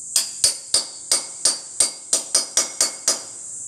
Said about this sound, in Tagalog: kailangan ko na siyang sinsilin. Ang kailangan ko lang ay pako at saka sinsil